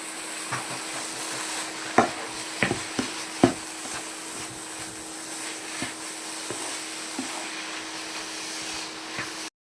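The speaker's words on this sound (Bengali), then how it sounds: "এখন এর মধ্যে কনডেন্স মিল্ক দিয়ে দেবো। ভালো করে মিশিয়ে নেব।" A spoon stirs papaya halwa with condensed milk in a pan, giving soft scraping strokes and a few sharp taps over a low continuous background hum, with no talking.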